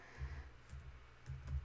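Keyboard typing, a few soft scattered keystroke clicks close by in a quiet room, with no talk.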